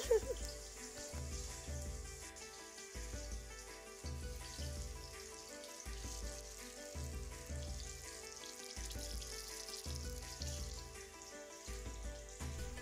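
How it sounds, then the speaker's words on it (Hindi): Food fries in hot oil with a steady, faint high sizzle, partly masked by rhythmic background music. "हम इसको एकदम पूरी तरह से अच्छे से फ्राई करेंगे"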